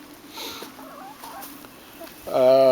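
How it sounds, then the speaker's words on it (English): A rooster crows loudly and close by near the end, after a stretch of soft chicken clucks and faint farmyard murmur. "This is our rooster."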